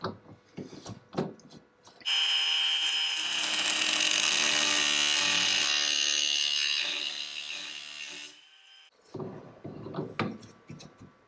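Angle grinder cutting off the protruding ends of bolts: a loud sustained high-pitched whine of metal grinding for about six seconds, framed by clanks and handling noises before and after.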